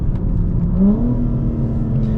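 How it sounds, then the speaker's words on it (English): A BMW G82 M4's exhaust rumbles low and deep at idle, with a brief rise in engine pitch partway through, heard up close and loud. "we'll be able to have a burble that's going to be more tame, or a burble that's really aggressive"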